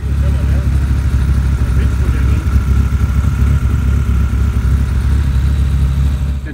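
Custom-built motorcycle fitted with a Ferrari F355 engine, running steadily with a loud, continuous low engine drone and rumbling texture throughout, no clear revs, alone without talk.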